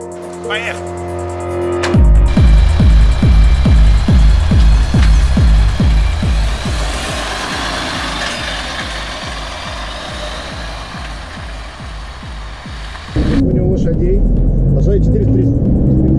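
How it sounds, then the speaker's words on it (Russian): KAMAZ-54901 long-haul tractor truck on a test drive, its diesel engine rumbling loud and close with rhythmic pulsing as it pulls away, then settling into a steady drone, with people talking over it. "Сейчас я буду делать тест-драйв на КамАЗе, грузовике нового поколения."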